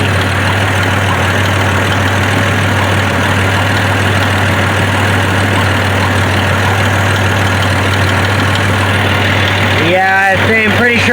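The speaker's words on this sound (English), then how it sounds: "Maybe that's just noisy lifters." A car engine with noisy LS7 lifters idles steadily with a low, even hum and faint ticking, then near the end a series of rising revving sweeps breaks in.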